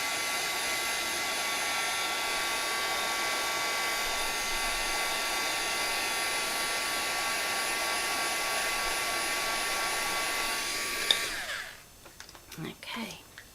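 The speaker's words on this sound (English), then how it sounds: "I have a dual temperature heat gun" A dual temperature heat gun runs on low with a steady, loud whooshing blower hum for about eleven seconds, then cuts off, leaving quieter room sound and a few soft handling noises.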